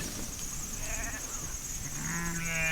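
Dorper sheep being moved to a fresh pasture in a rotational grazing setup, with a few wavering bleats from the flock over a steady outdoor background, moderately near.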